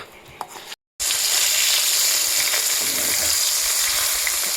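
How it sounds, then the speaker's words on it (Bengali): Large, egg-bearing native koi fish fry in hot oil in a home kitchen pan, a loud, dense, continuous sizzle that starts abruptly after a short gap and holds steady throughout. "কই মাছ খুব সুন্দর ভাজা চলছে, আর মা ভাজছে"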